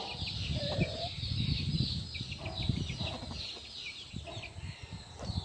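Aseel chickens on a farm in Taxila cluck and mutter in short bursts, close by, with chirping birds in the background.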